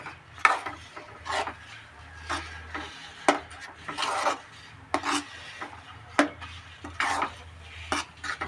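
Kesari bath being stirred in a pan, a North Karnataka style sweet, with repeated scraping, rasping strokes of a spoon against the pan at an uneven rhythm, close and fairly quiet over a low background hum.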